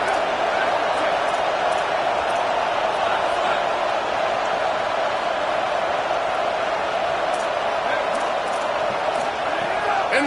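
A college football stadium crowd at an OU versus Oregon game on third down keeps up a steady, dense roar and loud continuous noise throughout, with no clear pauses.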